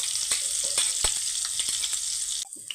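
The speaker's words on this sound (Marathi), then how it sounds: "याच्यामध्ये आता आपण मिक्सरला फिरवलेला मसाला टाकून घेऊयात" Ground masala paste hits hot oil with bloomed cumin seeds, setting off a loud, steady close-up sizzle with a few spoon taps on the pan before it abruptly quietens near the end.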